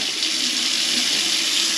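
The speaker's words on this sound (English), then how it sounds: "all connected up, trap's back in, water's back on" Tap water runs steadily into a sink after a plumbing trap is reconnected and the supply turned back on, a loud, continuous close-up rush with no talking.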